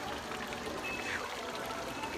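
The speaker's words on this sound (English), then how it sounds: "as soon as you walk in, the very first thing you see is this gorgeous fountain." An ornamental fountain at the entrance of Busch Gardens Williamsburg on a hot day, its water pouring and splashing in a steady, even wash that runs through the whole moment without a break.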